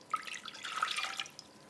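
Water and vinegar are poured together for a cucumber pickling brine, a faint close trickle with small drips and splashes running continuously and alone.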